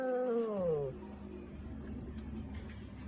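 A cat gives one drawn-out, close meow that falls in pitch. A low rumbling background follows.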